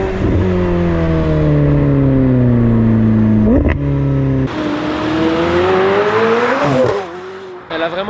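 McLaren 765LT supercar arriving, its engine note loud and close, sliding down in pitch as it slows, then a sharp burst of revving and a rising surge before it settles back.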